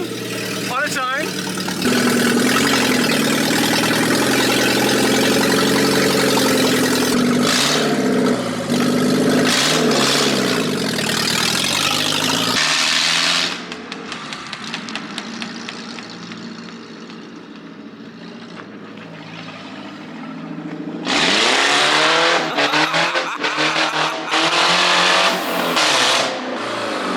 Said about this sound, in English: we got it running, it runs, it drives